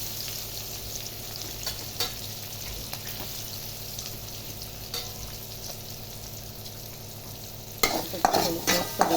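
Semolina sautéing with asafoetida, chili and onion in a pan, a steady low sizzle and hiss throughout, with louder scraping stirs near the end.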